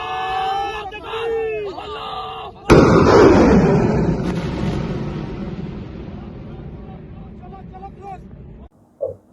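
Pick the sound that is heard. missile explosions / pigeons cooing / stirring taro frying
missile explosions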